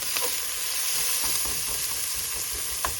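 Green beans sauté with herbs and Montreal seasoning in a hot pan, a steady close sizzle with occasional soft stirring scrapes throughout, no voices.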